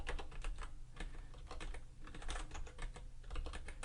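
Continuous rapid typing on a computer keyboard while entering a mail server address, close and steady clicking throughout, quiet, with no one speaking.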